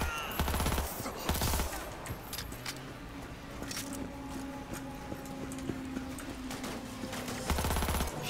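Gunfire in Cyberpunk 2077, loud rapid bursts near the start and again at the end, with scattered single shots and a low engine-like hum in between.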